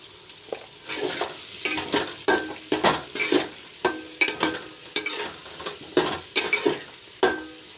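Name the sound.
stir-frying potatoes with turmeric and chili powder in a pan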